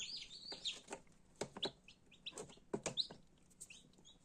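Tiny newly hatched chicks cheep in high, thin peeps in an incubator, scattered and irregular, with soft rustling and tapping close by.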